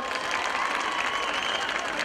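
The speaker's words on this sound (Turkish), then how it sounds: "Bir güçlü alkış alalım." Audience at a concert in Elazığ clapping steadily, a dense, even stretch of many hands at moderate volume with faint crowd noise mixed in.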